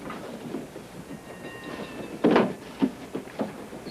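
A train from a 1959 movie rolls along with a low, even rumble and a few soft knocks and clatters, heard fairly faint in the background.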